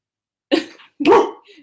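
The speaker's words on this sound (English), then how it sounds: "now my dogs are going to bark because the UPS man is out there" Dogs indoors bark twice in short, sharp bursts about half a second apart, close and loud, at a UPS delivery man outside the house.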